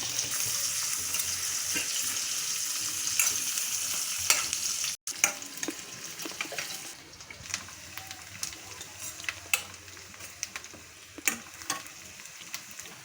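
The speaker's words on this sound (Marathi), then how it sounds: "आता ह्याच्यामध्ये आम्ही आता कांदा कट केलेला फ्राय करायला टाकते." Chopped onion frying in a pan for cashew curry, giving a continuous close sizzle with scattered stirring scrapes and clinks, moderately quiet, with no talk.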